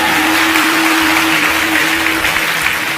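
An audience at a Hindu religious discourse claps loudly and continuously, a dense, steady wash of applause with no voices above it.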